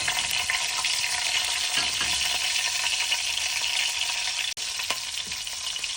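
Panch phoron and green chilies stirred in hot frying oil, a loud, continuous close sizzle with occasional soft stirring scrapes and one brief dropout near the end.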